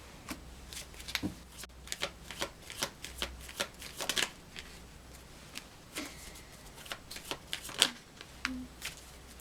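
Tarot cards being shuffled during a spirit reading, a steady run of crisp riffling snaps and flicks at close range with no voices over them.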